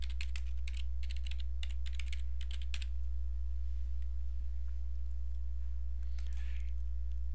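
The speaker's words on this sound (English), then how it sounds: "Type in the desired name." Keys clatter in quick bursts on a computer keyboard as a name is typed into a field, with a steady low electrical hum underneath and a brief softer rustle near the end; no one speaks.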